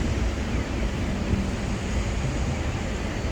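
Steady road traffic on a busy street near Seoul Station, a continuous broad wash of passing vehicles and tire noise with no distinct individual pass, heard from a fixed roadside spot.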